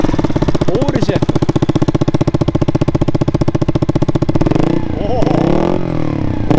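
A Honda Dax motorcycle engine runs at idle with a rapid, even, loud putter, then gives a brief rev near the end.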